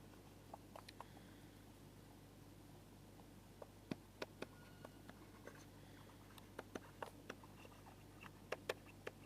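Pen or pencil writing down notes makes faint, quiet scratches and small taps in irregular bursts against a low steady hum, with no speech.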